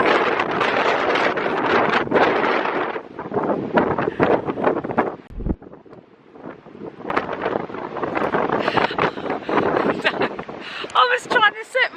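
Strong gusting wind buffeting the microphone on a beach at Paignton, loud roaring bursts that ease briefly midway then surge back, with people talking faintly underneath.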